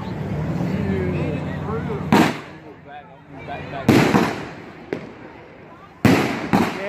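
Fireworks shells bursting at a demo night, three or four loud sharp explosions spaced a couple of seconds apart, each trailing into crackle, with people talking between them.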